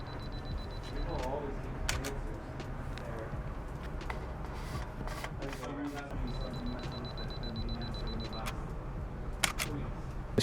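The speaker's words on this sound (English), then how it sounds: "You can press the shutter." A DSLR camera used to scan a roll of film negatives fires several sharp shutter clicks at uneven intervals over a low background hum, with faint voices nearby.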